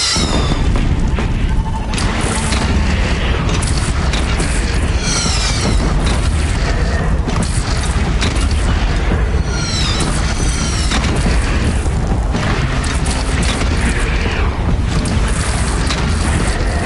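Cannon fire booms through a video game battle at a defended platform, repeated heavy blasts and explosions over a continuous loud din of combat, with no speech heard.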